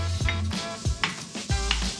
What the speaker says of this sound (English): I can go ahead and add in my shrimp and fish.